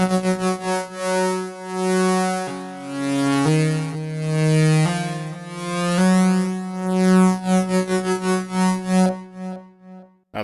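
Synthesizer tone shaped by a sine-wave modulation, harmonic notes shifting pitch in smooth steps and wavering slowly, then a faster pulsing wobble toward the end, played alone without talk.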